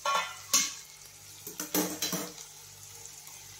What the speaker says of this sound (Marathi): त्याच्यावरती पाणी वगैरे टाकून घ्यायचं आहे.